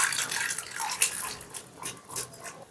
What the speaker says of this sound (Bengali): এবারে ডালটাকে আমি একটা পাত্রে ঢেলে নিচ্ছি।